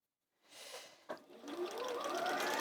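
Sewing machine quilting a tote bag with deep polyester wadding, a steady motor whir starting after a brief pause and a soft knock, then running continuously and moderately loud to the end.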